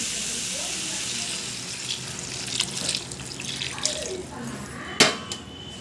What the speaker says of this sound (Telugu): ఇందులో సరిపడిన వాటర్ వేసుకోండి